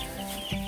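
Baby chicks in a neighbor's chicken coop give a brief burst of clucking and peeping, close and fairly loud against a steady background hum, with no talk over it.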